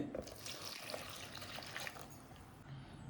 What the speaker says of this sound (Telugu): కొద్దిగా చింతపండు తీసుకొనేసి అందులో వాటర్ పోసి నానబెట్టుకుందాం